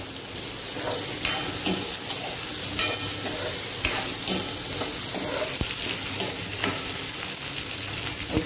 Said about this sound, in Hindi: अब मैं इसमें प्याज डाल देती हूँ और साथ में आलू डाल देती हूँ, जिससे ये आलू भी इसके साथ फ्राई हो जाएंगे